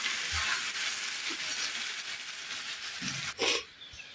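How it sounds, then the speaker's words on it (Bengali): Boiled vegetables frying lightly in a pan, a steady soft sizzle running throughout with a brief louder hiss and stir near the end. "তখন একটু হালকা ভেজে ঝোল দিয়ে দেবো।"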